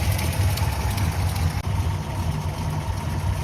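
A Ford Y-block V8 with newly fitted silicone valve cover gaskets idles steadily and loudly up close, a continuous low rumble with no talking over it.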